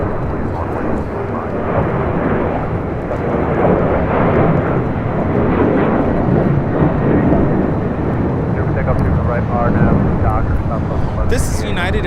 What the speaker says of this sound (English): This is United Airlines 1029 taking off to Denver on a 737-800.